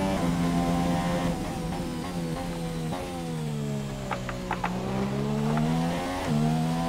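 An F1 car in F1 2017 at Bahrain accelerates hard out of a turn, its high engine whine climbing through gear changes with brief tire chirps, loud and continuous throughout.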